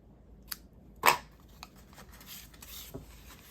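Scissors snip the ends of a floral ribbon, with a couple of crisp close cuts, one more pronounced than the rest, over faint rustling in a quiet room.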